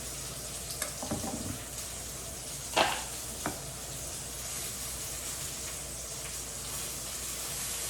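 Apples cooking in a pan, a steady bright sizzle of frying with a few scraping stirs and light clinks partway through, close and continuous.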